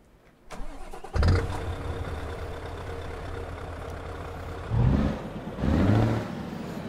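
A Lion truck's V8 engine cranks and fires in a truck simulator game, settling into a loud, steady rumbling idle with two brief revving surges near the end.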